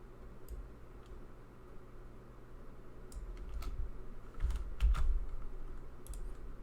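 Computer keyboard typing, scattered irregular key clicks at a desk over a steady low hum, fairly faint and growing slightly busier midway, with no talk.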